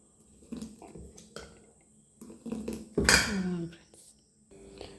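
Mudakathan keerai dosa batter meets a hot pan: a few soft clinks and knocks, then a sudden loud sizzle that bursts out and slowly dies down.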